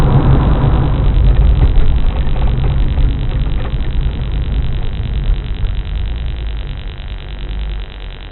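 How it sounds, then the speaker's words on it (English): Loud, steady road and engine roar fills the cabin of a Corvette C4 while driving, a constant wind-like rumble as if a window were down, with no talk. "I don't know why it's so noisy. It literally sounds like the window is down when it's not."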